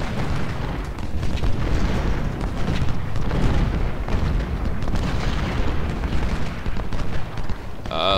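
Artillery fire from a Civil War battle in the strategy game Ultimate General: Civil War, the Battle for South Mountain, a dense continuous roar of booms and gunfire with no clear gaps.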